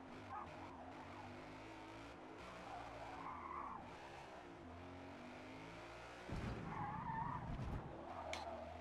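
A race car brakes hard and skids in Forza Motorsport on Xbox Series X: a continuous engine drone with tire scrub builds to a louder, rougher squealing burst near the end.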